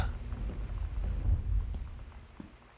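Thunder in the video game Gone Home: a deep rolling rumble that swells through the middle and fades away, with faint rain patter over it.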